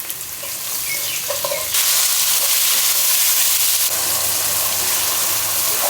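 Chopped onions dropped into hot oil already holding toasted cumin seeds, a steady loud sizzle that jumps up sharply partway through and keeps crackling as they fry, with faint stirring underneath and no talking.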